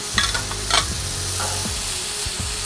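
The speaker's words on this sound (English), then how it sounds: "I'll add some of my onions here to it." Burgers and onions frying on a hot griddle, a steady close sizzle broken by a few short scraping and stirring bursts from a spatula.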